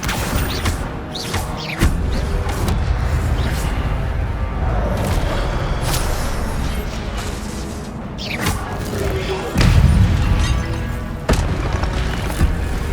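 Fire spell Incendio cast in Hogwarts Legacy, heard as repeated booming bursts and crackling impacts over continuous game combat noise, with several sharp blasts spaced through the passage and no talking.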